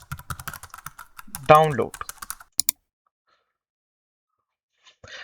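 Typing on a computer keyboard, a quick run of close, light clicking keystrokes over the first few seconds, interrupted by a brief spoken word, then silence with a couple of final taps at the end.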